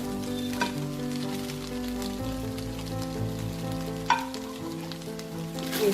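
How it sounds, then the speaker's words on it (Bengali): Chicken pieces frying in a pan for Schezwan chicken fried rice, a steady, loud sizzle with stirring and scraping throughout and a couple of sharper clatters, no voices. "এবার আমি চিকেনটা দিয়ে দেবো।"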